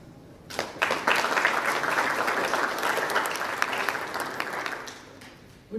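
A conference audience at the Kenya Peering Forum 2025 breaks into applause, steady mixed clapping that holds for several seconds and then dies away.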